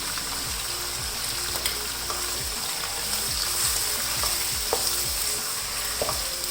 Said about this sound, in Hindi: लहसुन और अदरक का पेस्ट डालने के बाद भी 1 मिनट के लिए अच्छी तरह इसको भून लेना है।